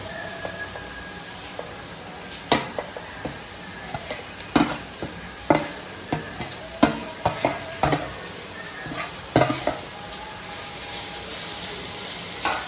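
Chopped wild foras leaves sizzle in a hot pan in a home kitchen while a spoon stirs them, with sharp irregular scrapes and clacks over a steady frying hiss and no voices.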